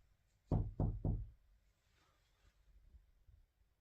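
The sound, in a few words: knocking on something in a room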